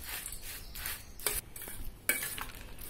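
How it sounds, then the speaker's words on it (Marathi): Bhel is tossed with sweet tamarind chutney: close, crisp rustling and crunching of puffed rice, with a few sharper scrapes of a spoon against the bowl and no voices. "आता आपली भेळ कालवून तयार झालेली आहे"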